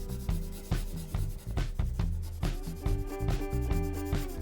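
A pencil cross hatching on paper scratches in quick, rhythmic back-and-forth strokes, close and distinct, over a faint steady background hum.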